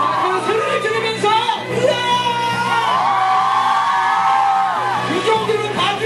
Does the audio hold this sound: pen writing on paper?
no